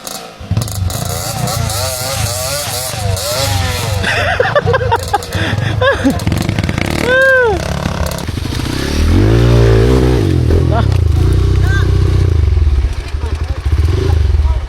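An enduro dirt bike ridden off-road through hills, its engine revving up and down in sharp bursts with rattling and clatter, close and loud, while someone talks over it.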